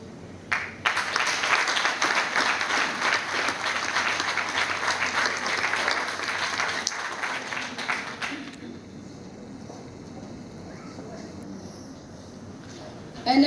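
An audience at a municipal swearing-in ceremony breaks into loud sustained applause from many hands for about eight seconds, then it fades into quieter room noise.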